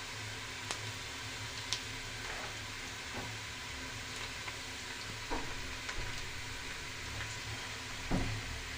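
Onions sauté gently in a pan for a homemade Tamil chicken gravy, a quiet continuous sizzle broken by occasional soft scrapes and taps of a spatula, with no talking.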